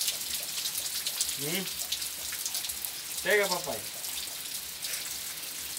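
Rainwater pours steadily from a roof gutter in a steady splashing hiss, with brief voices and chirpy calls breaking in above it.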